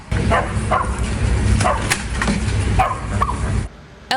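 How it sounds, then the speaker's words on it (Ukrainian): A search and rescue corgi barks in short bursts while digging through rubble, the barks sharp and close over outdoor noise and background voices. "На цьому відео Елтон в момент розбору завалів він активно махає хвостом та гавкає."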